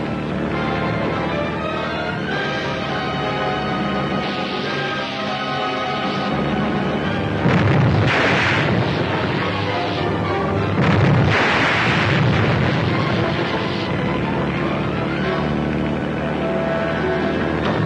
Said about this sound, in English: That's it, Red. Unlimber the gun